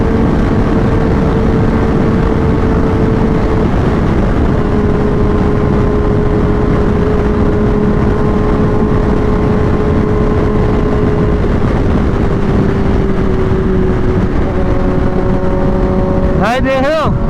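A Mahindra Thar and superbikes, a ZX-10R and an S1000RR, race on a road in Haryana; a loud, constant engine drone with wind rush sustains throughout, pitch slowly shifting, and a sharp high engine whine rises near the end.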